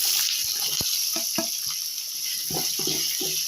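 Chopped onions fry in hot oil in a pan for a spinach poriyal, giving a steady close sizzle broken by clicks and scrapes of stirring, with no talking.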